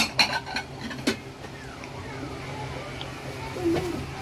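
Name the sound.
stirring salt and sugar into pickles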